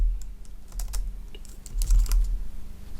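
Fingers type on a computer keyboard up close, a quick irregular run of crisp key clicks with a few louder taps, and nobody talks.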